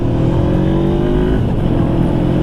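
Honda CB500F motorcycle engine revving while riding, a loud close droning growl with steady harmonics that rise slightly in pitch, mixed with wind rumble throughout.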